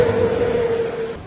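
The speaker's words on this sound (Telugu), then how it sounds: "గమనించారా, ఒకే ట్రాక్ పై 2 ట్రైన్లు." Train running along a railway track on an intercity line, a steady continuous rumble with a sustained tonal whine, fairly close and consistent throughout, no voices.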